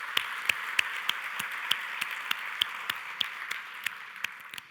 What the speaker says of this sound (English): can we give a round of applause to our amazing host